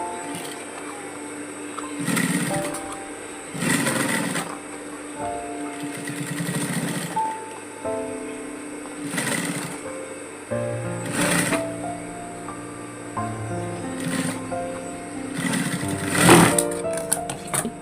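A sewing machine stitches around a round base piece joined to the top of a zip botuya bag in several loud close bursts, with short pauses of handling between runs.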